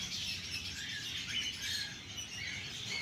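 Bird chicks at a breeding farm chirp in a dense, faint, high-pitched chorus that continues without a break.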